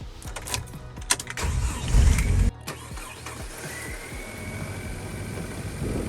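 A car engine cranks and turns over while a Topdon BT100 battery tester is connected, with a louder burst of starter cranking followed by a steady running idle.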